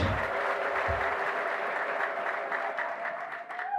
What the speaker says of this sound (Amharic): አጨብጭቡ ለኢየሱስ።